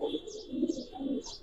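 Giribaz pigeons coo softly and close by, three low rolling coos in quick succession with faint higher chirps above.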